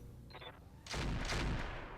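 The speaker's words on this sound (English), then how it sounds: "More cannon fire over towards the onward." Heavy cannon fire in the mech combat game RogueTech booms out in a loud, dense burst of blasts after a quieter opening with a short tonal beep.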